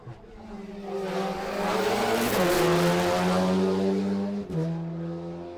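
A car drives a hill race course in Montenegro, its engine loud and close, revving hard with pitch climbing and holding before a quick dip and recovery, with no voices.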